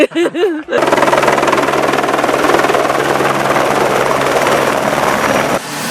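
A helicopter hauling mountain bikes and riders uphill roars loudly and steadily close by with rapid rotor chop, after a few brief spoken words at the start.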